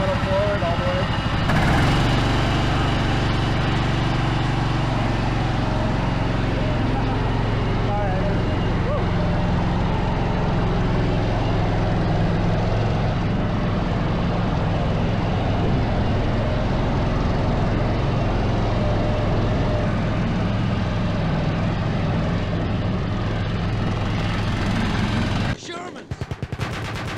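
A tank engine roars loud and constant as the throttle is pushed fully forward, with a heavy low rumble that holds throughout and drops away abruptly near the end.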